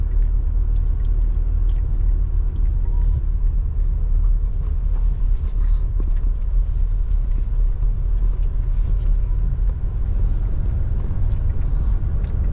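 A car engine idles and drives steadily as someone learns to drive, a constant close, low rumble from inside the vehicle with faint clicks and road noise, and no talk.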